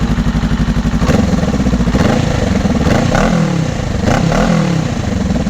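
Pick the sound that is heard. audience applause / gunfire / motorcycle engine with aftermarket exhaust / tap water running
motorcycle engine with aftermarket exhaust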